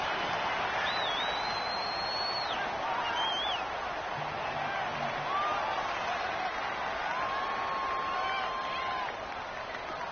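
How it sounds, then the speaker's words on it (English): Stadium crowd ambience in a domed arena during an American football video game, a constant broad roar under the play, with faint whistles and calls rising above it and no clear speech. "The crowd here in the Dome making things difficult."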